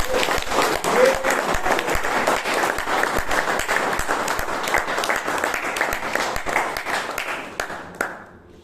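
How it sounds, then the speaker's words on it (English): A Toastmasters meeting audience in Bangalore gives a sustained round of applause, many hands clapping densely and evenly for about eight seconds before it fades out abruptly. "So please give the entire Taggle team a huge round of applause."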